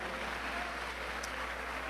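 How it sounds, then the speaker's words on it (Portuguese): A church congregation claps together in steady, continuous applause that sounds soft and somewhat distant, with no break across the short stretch. "dando a Jesus uma linda salva de palmas"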